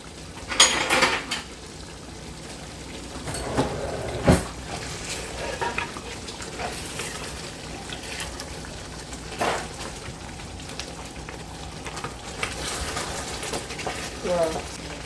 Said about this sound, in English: Gonna stir this.